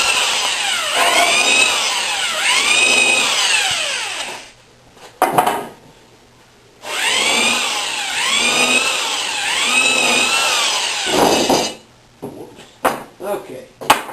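A power drill countersinks screw holes in a wooden outfeed table, whining in long loud bursts that rise and fall in pitch, with a pause between runs and a few short clunks at the end.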